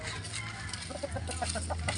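A gamefowl rooster at a cockfighting farm clucks in a run of short, close calls over steady background noise, with no talk.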